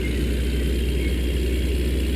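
A new Kenworth truck's engine idles steadily with a low, continuous rumble and no variation in pace, close and fairly loud, with no voices.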